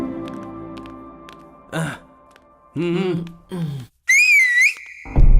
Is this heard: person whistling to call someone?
yes